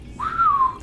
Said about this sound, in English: and that whistling part